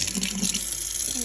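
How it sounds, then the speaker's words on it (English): Tap water runs steadily into a sink, a continuous close splashing rush with no talk over it. "Can I run some water?"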